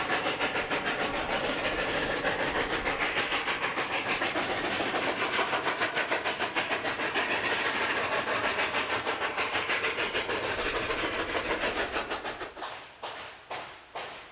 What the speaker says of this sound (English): The climb up from Chama to Cumbres is one of the great spectacles in steam railroading